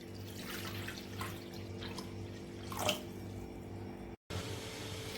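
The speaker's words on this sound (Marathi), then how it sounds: "आता इथे बाउलमध्ये थंड पाणी घ्यायचं आहे." Cold water splashes and trickles into a bowl, a soft, close pouring sound over a low steady background hum, cut by a brief silent gap near the end.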